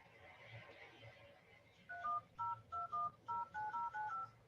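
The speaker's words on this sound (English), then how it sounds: "I could literally hear you dialing the numbers." A telephone dialing a number, a rapid series of about nine short beeping tones, clear and close, following a faint murmuring background.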